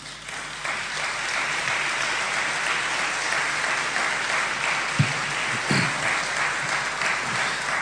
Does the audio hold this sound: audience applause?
yes